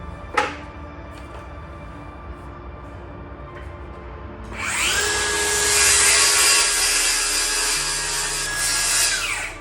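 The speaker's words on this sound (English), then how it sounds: "the skill saw throws sawdust right in the eyes" Circular skill saw cutting wood: a sharp knock first, then the blade spins up and bites in with a loud, steady whining rip that holds for several seconds, close and alone.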